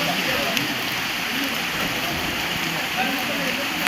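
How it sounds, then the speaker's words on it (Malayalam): Heavy monsoon rain pours in Tirur, Kerala, a dense, constant roar of water beating on surfaces, loud and unbroken throughout. "2 ദിവസങ്ങളായി പെയ്തുകൊണ്ടിരിക്കുന്ന കനത്ത മഴ"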